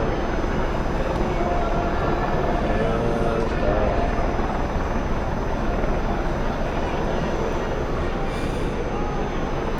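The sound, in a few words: helicopter flying overhead during a march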